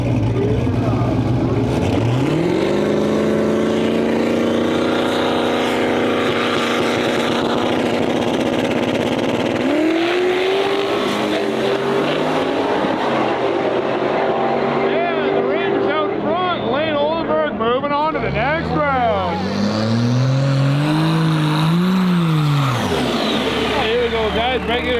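No-prep drag race cars, among them a turbo LS S10, roar at a Western Canadian no-prep shootout, engines revving and accelerating loudly with rising and falling pitch sweeps, while a voice talks over the noise.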